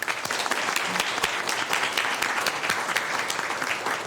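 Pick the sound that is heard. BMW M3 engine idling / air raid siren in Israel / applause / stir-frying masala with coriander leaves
applause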